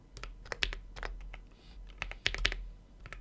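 Typing on a computer keyboard, irregular bursts of sharp clicking keystrokes with short pauses between clusters, close and distinct with no talking over them.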